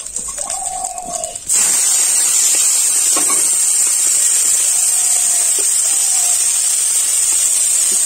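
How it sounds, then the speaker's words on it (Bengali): Small prawns frying in hot oil in a pan, a steady loud sizzling hiss that bursts in after a quieter moment and holds throughout. "এবারে চিংড়ি কটাকে ভেজে নেব"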